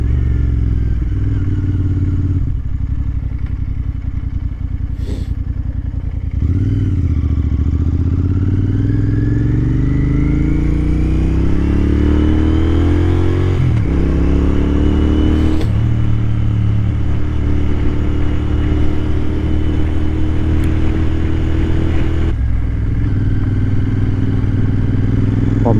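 Motorcycle ride with a tinted visor helmet, steady loud wind roar and engine drone throughout, rising and falling with revs and gear changes, no talk.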